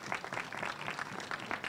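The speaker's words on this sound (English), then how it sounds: "Let's give them a round of applause." Audience at a school ribbon-cutting ceremony gives a round of applause, a steady dense patter of many hands clapping throughout the short moment, fairly close and without talk over it.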